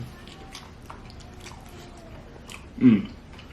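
Someone chews deep fried seafood-stuffed catfish close to the microphone with soft crunching and mouth sounds, and a louder bite or murmur near the end.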